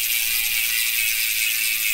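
Speed 1 Torpedo MTB rear hub freewheeling, a steady fast stream of sharp ratchet clicks, close and fairly loud, with nothing else over it.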